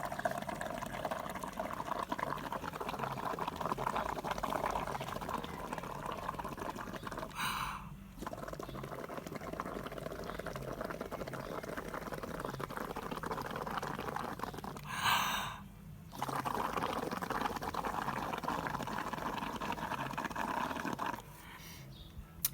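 Air blown through a straw into a pot of liquid pottery glaze makes continuous bubbling and gurgling, steady and close, broken by three short pauses for breath.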